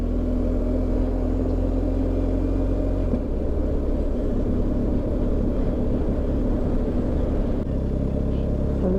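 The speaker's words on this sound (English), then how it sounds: "Lots of cars here." Car traffic on a road in rural Portugal, a constant loud low rumble and drone of engines and tyres that shifts slightly in pitch but never drops away, with no talking.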